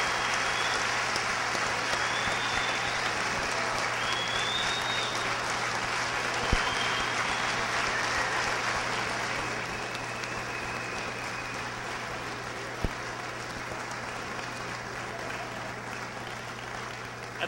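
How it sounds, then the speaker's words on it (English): An audience at a Pacific Athletic Hall of Fame induction ceremony applauds in a hall, with sustained, dense clapping that carries on evenly and eases slightly toward the end. "please remain standing and give one more applause"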